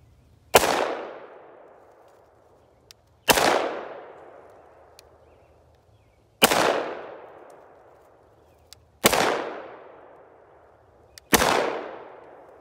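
Five loud, sharp gunshots fired at a doorknob target, spaced a few seconds apart, each with a sharp crack and a long decaying echo, with no talking in between.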